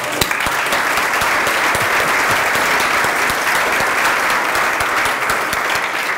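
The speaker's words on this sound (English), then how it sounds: "So a big round of applause to them." Loud, dense applause from a programming conference audience in Colombia, a continuous wash of clapping holding steady throughout without talk.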